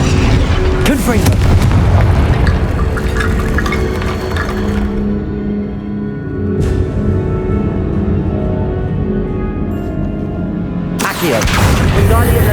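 Hogwarts Legacy combat with the Confringo fire spell: heavy booming explosions and bursts layered over game music and effects, with someone shouting spell names throughout.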